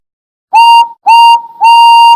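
Three short, loud, shrill steam engine whistle blasts in quick succession, each a clear steady tone that cuts off sharply, with silence before them and no voices.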